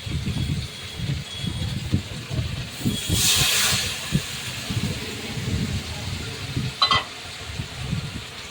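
Water splashed into frying green chili paste brings a sudden hissing burst that fades after about a second, then a shorter second hiss, all under a person talking nearby.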